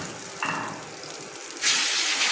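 A chicken steak laid into a pan over high flame gives a bright, hissing sizzle that swells loudly near the end, close up and steady, with no one talking.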